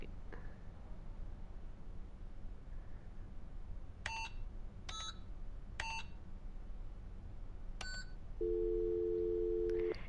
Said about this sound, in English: I'm just gonna randomly call Olivia from this phone, even though we already did